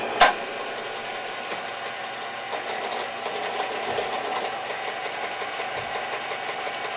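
A minilathe cuts a thread with its dog clutch engaged, giving a steady mechanical whir and hum with a sharp click at the start, moderately loud and continuous with no talking.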